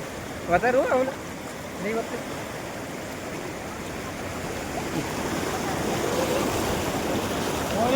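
Floodwater after heavy rain rushes along in a steady, broad roar that swells a little over time, with people's voices briefly heard near the start.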